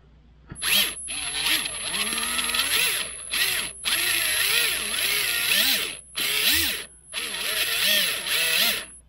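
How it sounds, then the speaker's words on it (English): A small RC car metal gear transmission in low gear whines loudly in repeated bursts, pitch rising and falling as it speeds up and slows, with short pauses between runs. "Testing it out. I'm going to put it in low gear first."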